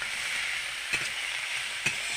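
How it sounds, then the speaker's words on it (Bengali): Potatoes fry in hot oil in a pan with a steady, close sizzle, broken by two brief clinks of a utensil against the pan. "এবার আলু ভাজা হচ্ছে।"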